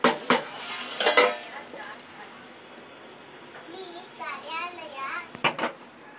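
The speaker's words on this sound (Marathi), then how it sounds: "अशा पद्धतीने डाळ ढवळून घ्यायची आहे।" Dal is stirred in a cooking pot with a spoon, giving soft scraping swirls and a few sharp clinks against the metal near the start and end, while a voice chatters faintly in the background.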